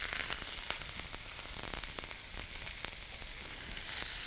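Ginger and shallots sauté in coconut oil in a pan, giving a steady, close sizzle with small pops and crackles throughout and no talking.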